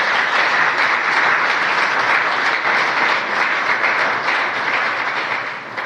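Loud, dense congregational applause in a church, a steady wash of many hands clapping at once that holds throughout and eases slightly at the close.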